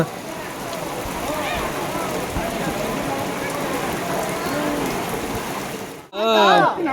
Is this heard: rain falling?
yes